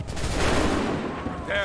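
A musket volley fires in Assassin's Creed 3, a dense, loud, booming burst of rolling gunfire that fills the short moment, then tails off.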